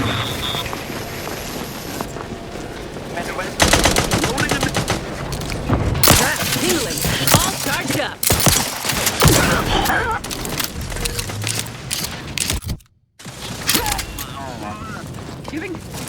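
Gunfire from the video game The Outer Worlds 2: dense, loud bursts of shots and mechanical clatter fill the scene, broken by short lulls and a brief silence near the end, with a voice speaking intermittently.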